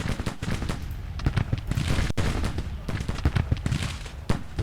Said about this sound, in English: Our artillery is now also able to open up, and I want them to open fire on the 39th New York.